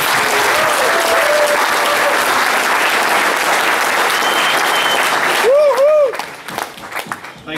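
Audience at a conference talk on modular monoliths breaks into loud, dense applause that holds steady for several seconds before thinning out as a voice starts speaking.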